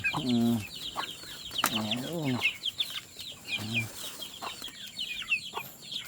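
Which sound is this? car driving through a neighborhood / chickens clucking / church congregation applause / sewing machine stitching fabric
chickens clucking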